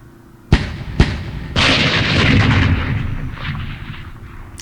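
Mortar fire in the wargame Campaign Series Vietnam, Khe Sanh scenario: two sharp launch thumps about half a second apart, then a loud sustained blast and rumble that slowly fades, with no talking.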